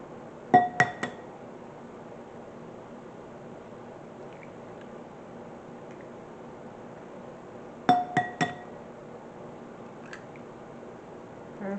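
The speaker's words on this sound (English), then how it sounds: "we're going to take another clear bowl and we're going to add in eggs, sweetener, and cinnamon and vanilla" Three large eggs cracked against a clear glass bowl, two sets of sharp clinks and taps about seven seconds apart with faint rustling between.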